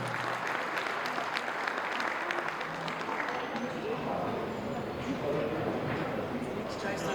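Guests at a celebration with a toast for newlyweds applaud steadily at moderate volume, a continuous wash of clapping with voices mixed in underneath.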